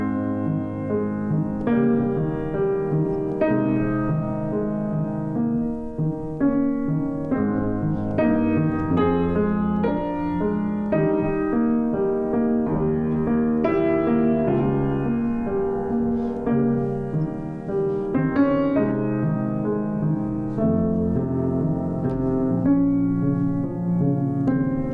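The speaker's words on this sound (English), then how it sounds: "if I were to play a second movement of Beethoven's Pathetique Sonata" Solo piano playing the opening of the second movement of Beethoven's Pathetique Sonata, a slow, sustained lyrical melody over a flowing accompaniment, heard clearly and continuously with no talking.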